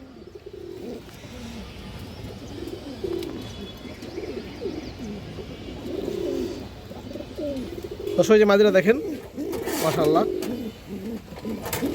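A lively pigeon, a black female of an old pedigree line, coos and calls briefly near the end, with a louder burst around the eighth second, beneath steady close talking by a man.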